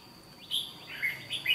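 Red-whiskered bulbuls near their nest give a few short, bright chirps, close and fairly soft, alone in a quiet outdoor setting.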